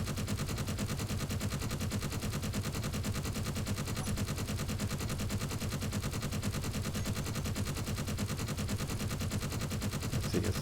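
In the video game Space Engineers, a turret fires continuously in rapid automatic bursts, a dense unbroken rattle of gunfire lasting the whole stretch with no voices.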